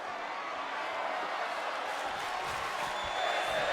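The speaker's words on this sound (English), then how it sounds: "Crowd responding in the right manner to that from Lethal" Video game arena crowd in WWE 2K19 roaring steadily after a wrestler's suicide dive into the barricade, a continuous dense wash of cheering that swells slightly toward the end.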